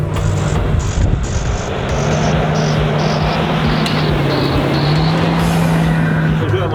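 A JLTV military vehicle driving over a very rough road, its engine droning steadily with a low rumbling hum and rising tone, loud and close from start to finish.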